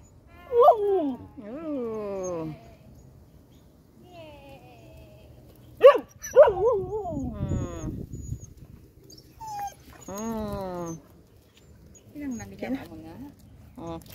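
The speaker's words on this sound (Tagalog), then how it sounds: "Tingnan yung aking aso." A dog on a morning walk gives several sharp barks mixed with drawn-out, whining whimpers, close to the microphone, with someone talking in between.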